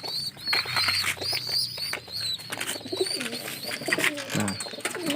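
Pigeons in a loft while squab chicks are handled, with close, repeated cooing, chirps and bursts of wing flapping in a busy, reverberant space.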